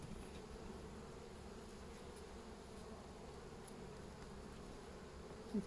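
Honeybees buzz in an opened beehive, a faint, steady, even drone that holds through the whole stretch with no talking.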